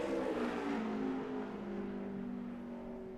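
A NASCAR Nationwide Series stock car on a qualifying lap at Phoenix, a steady high engine drone with slowly falling pitch as it holds speed, heard at a distance and fairly faint.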